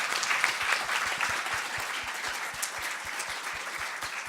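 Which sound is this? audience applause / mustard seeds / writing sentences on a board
audience applause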